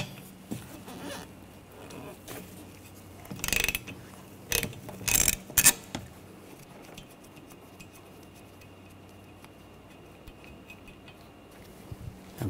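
A 15 mm socket wrench ratchets off the wiper arm nut on a Ford Escape, giving a few short clicking bursts close by around the middle, then quiet shop background.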